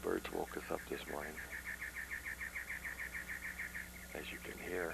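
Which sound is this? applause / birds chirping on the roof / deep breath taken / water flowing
birds chirping on the roof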